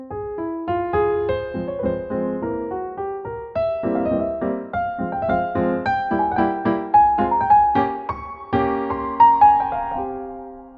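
A solo piano plays a Beethoven-style sonata passage modeled on his Sonata Op. 2 No. 1, with flowing broken chords and a clear melody, moderately loud and uninterrupted by speech.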